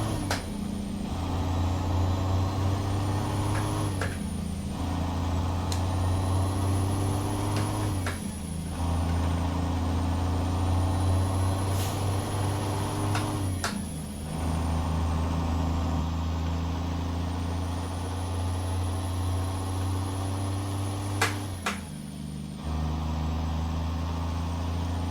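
A Freightliner FLC log truck in American Truck Simulator idles at a standstill, a steady low engine drone that runs throughout with a few brief pneumatic hisses and dips along the way.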